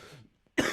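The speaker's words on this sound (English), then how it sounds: "I'm about to cough." A single sharp cough bursts out after a brief pause, loud and close, following a moment of quiet.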